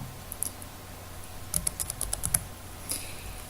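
A short burst of keystrokes on a computer keyboard while entering a crossword word, with a few isolated taps followed by a quick run of about seven clicks, close and fairly quiet, with no talking.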